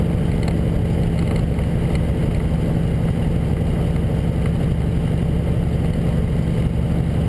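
A truck engine runs on a mountain highway pass, a steady low droning rumble that stays constant and fairly loud throughout, with no voices.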